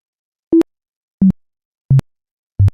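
Four short synthesized sine tones, evenly spaced, each a bit lower in pitch than the one before, with silence between them.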